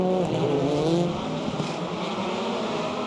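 A rallycross race car pulls hard down the straight in an ARX of Canada semifinal, its engine a loud, sustained near roar with sharp gear-cut bangs as it shifts.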